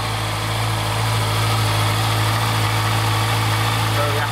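A 2015 Honda CB650F motorcycle engine idles steadily up close, a continuous even low hum and vibration throughout the clip.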